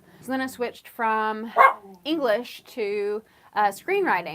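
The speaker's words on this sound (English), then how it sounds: "sorry about my dog" A dog gives a short, sharp bark or two nearby, partly masked by a person talking steadily over it indoors.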